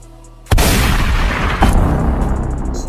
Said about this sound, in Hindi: ये तो गन की आवाज लग रही थी और आई कहां से?